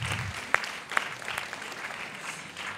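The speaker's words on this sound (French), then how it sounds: "je vous invite aussi à applaudir tous vos accompagnateurs qui sont là" An audience applauds accompanying adults at a conference on high-potential children, a faint, steady patter of clapping with a few sharper claps standing out, alone with no voices.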